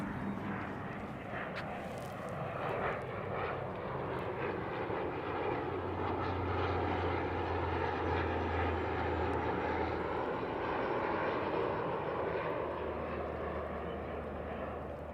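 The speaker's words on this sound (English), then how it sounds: "I hear a plane coming in." An airplane flies in overhead near the Toronto waterfront at Ontario Place and Trillium Park, a broad engine roar that builds and holds over steady outdoor ambience.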